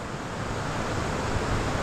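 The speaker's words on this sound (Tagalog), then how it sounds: "Grabe yung lalim ngayon. Malakas yung agos." A swollen river with a strong current rushes in a continuous, dense roar of moving water, steady and fairly loud, with no voices over it.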